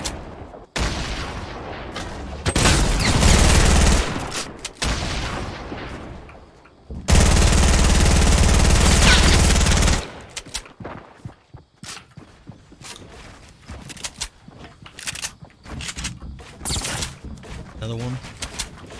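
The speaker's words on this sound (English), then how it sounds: "Oh, someone shooting me from the back." Fortnite battle royale gunfire: repeated bursts of automatic shooting in loud dense stretches, with sharp isolated shots scattered between, close and prominent, with players talking over it.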